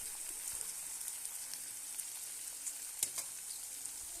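Onions sauté in oil in a pan, giving a faint, steady sizzling hiss with a few small pops and crackles and no voices.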